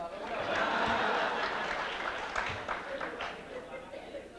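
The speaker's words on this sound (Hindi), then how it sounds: "अब बजाइए तालियां जब दिल चाह रहा है" Audience applause at an Urdu poetry mushaira, a broad wash of clapping from a crowd that swells early and then slowly thins, with some murmuring and chuckles mixed in.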